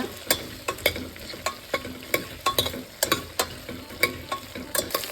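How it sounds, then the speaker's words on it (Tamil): Okra, or ladies finger, sautéing in a pan for sambar: a soft, steady sizzle punctuated by a quick run of light clicks and taps as a spatula stirs and turns the pieces. "அடுத்ததாக வெண்டைக்காயும் சேர்த்துக்கலாம். அதில் இதை ஒரு 3-4 நிமிஷம் நல்லா வதக்கிக்கணும்."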